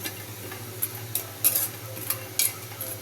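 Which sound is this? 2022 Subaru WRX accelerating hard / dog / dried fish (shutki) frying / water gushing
dried fish (shutki) frying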